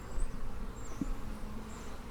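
Honey bees at a beehive, a faint steady buzzing hum with a few brief higher whines of individual bees passing close by, quiet and continuous.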